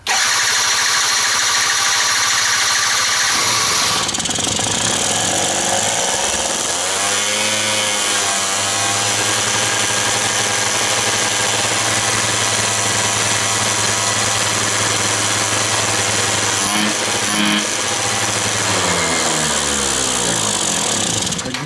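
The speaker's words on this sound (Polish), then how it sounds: "Jak widzicie, ten silnik odpalił" Quantum RS small engine starts and runs at high revs, a loud buzzing drone with pitch sweeping up and down as the throttle changes, steady for most of the clip.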